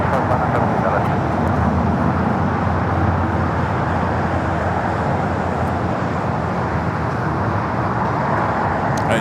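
Steady broadband aircraft roar at LAX airport, continuous and fairly loud throughout, with a constant low rumble and no clear pauses.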